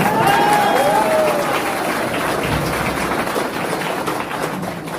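An audience at a seminar claps, a dense wash of applause that stays loud and steady for several seconds before easing slightly.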